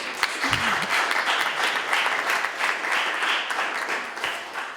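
An audience breaks into sustained applause, dense clapping that holds steady and close for several seconds.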